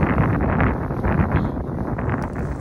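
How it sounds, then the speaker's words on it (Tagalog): Strong wind roars steadily against the microphone, a dense, blustery rumble that stays loud throughout with slight gusting surges. "kasi malakas ang hangin"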